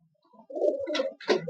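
A male pigeon coos from above in a loft, two or three soft throaty rolling coos in short bursts, close and clear with no talk.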